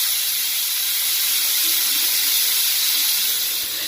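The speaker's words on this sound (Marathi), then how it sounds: "आता कुकरचं झाकण लावून आपण दोन ते तीन शिट्ट्या ह्याच्या छान अशा काढून घ्यायच्या आहेत" Steam hissing hard and steady from a pressure cooker holding mutton broth and rice, a loud continuous close jet of rushing vapour with no break.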